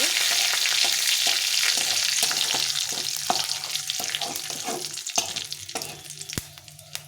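Dried red chillies and bay leaves frying in hot oil give a steady, loud crackling sizzle, broken by short clattering stirs of a spoon in the pan, easing slightly toward the end.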